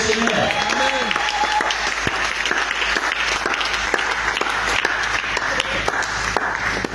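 A congregation applauds steadily in Sainte Marie cathedral during a charismatic renewal gathering, dense clapping filling the space from start to finish, with voices faintly mixed in at the start.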